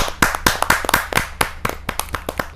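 Sharp, close hand claps ring out at a Hindi poetry gathering to welcome a poet, an uneven run of distinct loud claps from a small group with quick decays between them.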